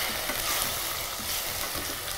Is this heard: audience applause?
no